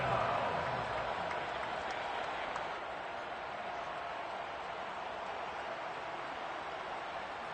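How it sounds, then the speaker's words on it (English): Stadium crowd applauding and cheering for the defense at a Miami Dolphins football game, a steady broad roar of clapping that fades slightly after the first few seconds, with no talk over it. "How about some applause for the defense there?"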